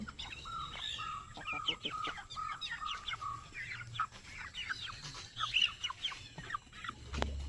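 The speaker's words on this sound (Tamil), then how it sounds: "இப்போ தான் போட ஒவ்வொரு கோழியாக அங்கேருந்து ஒடியாந்துட்டுருக்கு" Farm chickens scatter-feeding on rice thrown for them outdoors, giving frequent soft clucks and short calls at close range over a quiet background, ending with a louder squawk.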